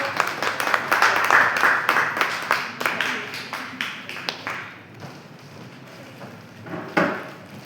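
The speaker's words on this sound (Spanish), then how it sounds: "Nos demos un fuerte aplauso por su vida." Applause from a church audience welcoming a guest preacher at an evening gathering, a dense burst of clapping that thins after a few seconds, with a voice speaking over the tail.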